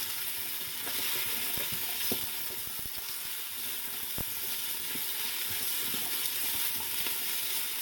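Bay leaves and thyme sprigs are stirred around in a soup pot, giving a steady soft sizzle with scattered light scrapes and taps of the spoon, close and alone.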